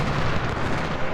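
A musket volley from a Civil War battle in the strategy game Ultimate General: Civil War rolls out as a dense, continuous, booming rumble with no clear separate shots, alone without talk.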